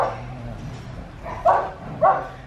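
Border Collie dog giving two short, sharp barks close by after a quieter whimpering yelp, with a faint background murmur.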